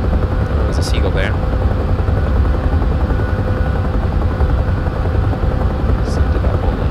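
A loud, steady Huey helicopter rotor and engine drone in the DCS flight simulator, over a harbor in Guam, fills the whole stretch, with a few brief high seagull chirps on top.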